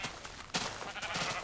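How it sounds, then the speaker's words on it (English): Sheep bleating in Minecraft, a few short overlapping bleats from a flock at close range, fairly loud and steady across the moment with no talk over them. "It's a sheep parade."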